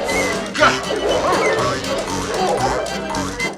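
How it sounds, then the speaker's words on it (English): Dogs barking and yipping in a Christmas movie scene where the dogs eat the turkey, a busy cluster of barks with a crash-like burst, all set against a dense background of music and voices. "whether it's the dogs eating the turkey"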